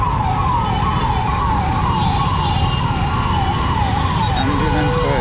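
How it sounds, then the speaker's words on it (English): A wailing ambulance siren cycles rapidly up and down over steady traffic rumble, loud and close, continuing without pause. "Oh, ambulance, you wait for ambulance."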